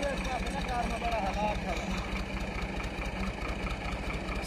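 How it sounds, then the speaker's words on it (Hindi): A tractor engine runs steadily at idle on farmland during field preparation for wheat sowing. It gives a continuous low rumble close by, and a faint voice and chirps come through in the background. "माशाल्लाह भांजा मेरा ट्रैक्टर चला रहा है।"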